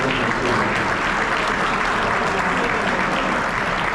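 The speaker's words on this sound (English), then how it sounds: "one more round of applause for all our award winners." A high school basketball awards banquet audience applauds the award winners with dense, continuous clapping that stays loud and even throughout.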